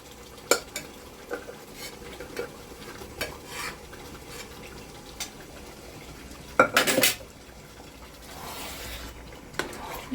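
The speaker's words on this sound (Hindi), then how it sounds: "अब हम इसको दूसरे बर्तन में ट्रांसफ़र कर देंगे, क्योंकि दिखेगा नहीं इसमें आप लोगों को कुकर में" Tender cooked mutton pieces for Lucknow-style boti galawati kebabs being scooped out of a pressure cooker into another pot, with spoon scrapes, clinks of metal cookware and soft wet thuds in an intermittent run, close up.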